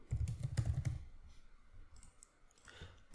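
Computer keyboard typing while writing code: a brief cluster of close, crisp key taps at the start, then sparse quieter clicks and near silence, with no talking.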